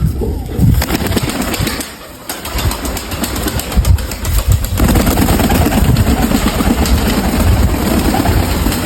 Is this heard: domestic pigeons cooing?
yes